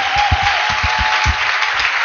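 Church congregation clapping together in steady rhythmic beats, loud and close, a brief burst of applause with a faint tone held underneath.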